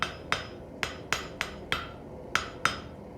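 A hammer fitted with a new handle strikes eight times at an uneven pace, each blow a sharp, close, ringing impact that decays quickly, with no talking.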